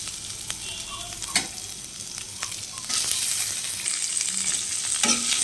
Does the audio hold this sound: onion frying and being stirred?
yes